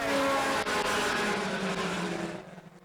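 Pure stock race cars roar around a dirt track, engines droning loudly close by before fading away as the pack passes.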